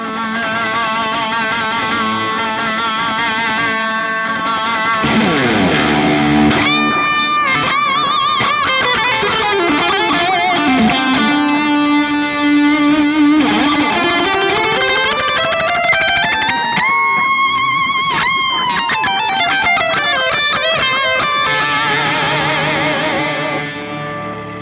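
An electric guitar plays a heavy, distorted lead through a Donner Yellow Fall reverb and delay pedal, with sustained notes bending and sliding, thick echo and chorus-like shimmer, loud and continuous throughout.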